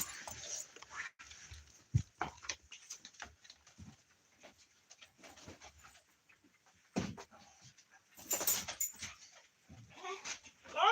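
A puppy whimpers and pants in short, soft bursts while waiting for dinner, with scattered light patter and jangling, close to and fairly quiet.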